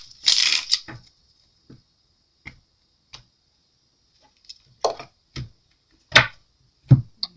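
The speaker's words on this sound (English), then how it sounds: "let me just do some shuffling here and set the cards up" Tarot cards shuffled by hand, a sparse run of soft riffling snaps and taps, close and fairly faint, coming in irregular bursts with quiet gaps between them and no talk.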